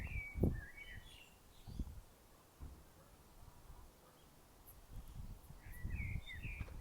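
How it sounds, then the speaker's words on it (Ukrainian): Faint spring bird chirps and short trills in New Zealand come in small clusters, mostly at the start and end, over quiet outdoor background noise and soft low thumps. "послухайте трішки, як співають зараз пташки"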